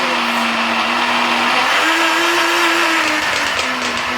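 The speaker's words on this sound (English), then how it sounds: "So I'm going to blend" A blender whirs loudly and steadily, its motor pitch rising and dipping as it purees soaked beans with onions and scotch bonnet pepper for akara batter; no voices over the grinding.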